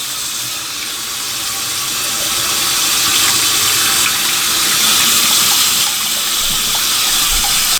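Running water rinses developed 35mm or 120 film in a home darkroom after Cinestill Df96 monobath processing, a steady broadband hiss and gush like a tap flowing into a sink or tank, continuous and fairly loud with no talking.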